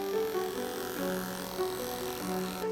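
Hair trimmer cutting a small amount of hair during a barbershop dye cut, a continuous close electric buzz with wavering pitch as the blades move, no talking.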